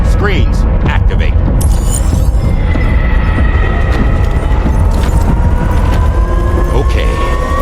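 Defense screens power up in Death Stranding 2: a dense mechanical hum with rising electronic whines and tones over a steady low rumble, loud and continuous.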